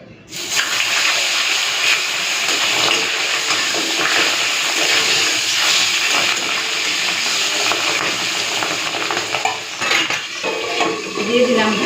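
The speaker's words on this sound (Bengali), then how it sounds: "তো তেলটা গরম হয়ে গেছে এখন আমি মাছটা দিয়ে দেবো তিনখানা মাছ একসাথে দিয়ে দিচ্ছি" Three small sea fish (mourala) fry together in hot oil in a pan, giving a loud, dense, steady sizzle that carries on for several seconds with faint utensil clinks.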